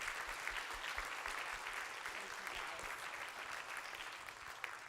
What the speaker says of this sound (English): Can I have one more round of applause for our fantastic panel this evening?